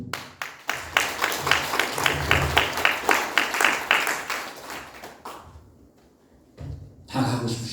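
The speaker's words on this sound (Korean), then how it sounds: "한번 박수 한번 쳐보세요" An audience at a unification lecture in Pocheon claps in steady unison, a rhythmic run of sharp beats for about five seconds that then stops, followed by talking and a final short flurry of noise.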